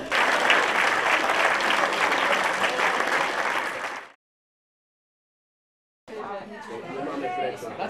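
Applause and an ovation at a film premiere, with loud, dense clapping mixed with crowd chatter. It cuts to silence for about two seconds, then more clapping and cheering resume.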